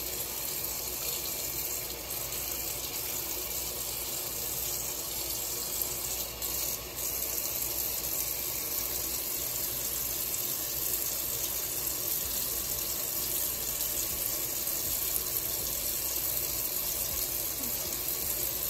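Bleach being rinsed out of a lace frontal under a running tap, a steady loud gush of water lasting the whole stretch with only slight shifts, with no talking.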